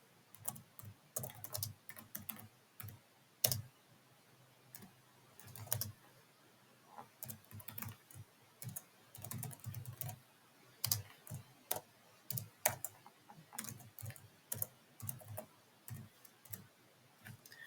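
Steady computer keyboard typing of code while reconnecting to a running Docker container, with irregular bursts of close, crisp key clicks and short pauses throughout, no talking.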